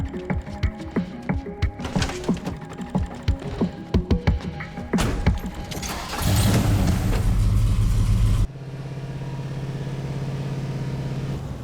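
A car engine turns over and settles into a steady idle after a run of clunks and thuds, like doors closing and someone getting in, then holds a low continuous drone.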